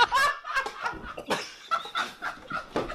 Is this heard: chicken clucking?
yes